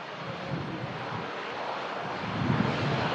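A propeller aircraft at Manchester Airport, heard as a steady, windy, broadband engine drone at moderate distance, swelling a little louder near the end.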